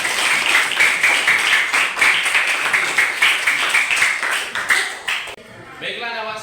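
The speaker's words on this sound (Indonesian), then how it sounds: "Tepuk tangan." A class claps together after a group presentation, brisk rhythmic applause fairly close by that stops abruptly, followed by a voice starting to speak.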